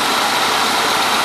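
2001 Buick LeSabre engine idling rough with a misfire, a loud, close, continuous engine drone over a short stretch with no talk.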